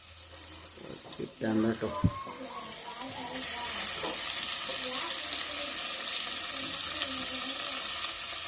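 Onion and tomato sizzle in hot oil with popped mustard seeds, a steady loud frying hiss rising after a few seconds and holding to the end, with brief speech and clattering near the start.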